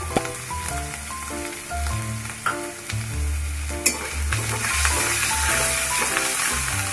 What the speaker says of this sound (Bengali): এবার দিয়ে দেবো আদা রসুন বাটা ঝালের জন্য দিয়ে নেব কাঁচা লঙ্কা বাটা